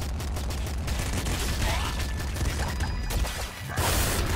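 Rapid bursts of gunfire from the video game Nuclear Throne crackle densely and continuously, loud and close, with a brief dip near the end before the shooting resumes.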